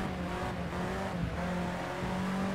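Race car engine in Project Cars 2 at Knockhill International, a loud steady drone with the pitch easing as the car brakes hard for a right-hand corner, with a faint tire squeal.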